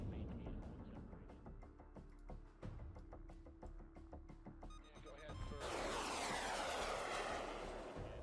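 Eurofighter Typhoon fighter jets taking off in a combat video game, a low rumbling roar that swells into a loud, broad jet-engine blast, with someone talking over the engine noise.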